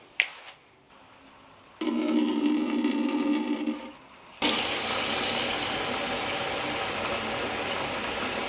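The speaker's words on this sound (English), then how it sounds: "let me quickly chuck some water in the cups" Water is poured into moss pole cups on houseplants indoors, a few seconds of gurgling fill followed by a steadier, louder rush of running water after a brief pause.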